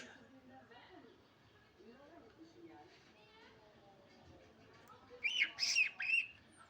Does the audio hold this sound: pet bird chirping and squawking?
yes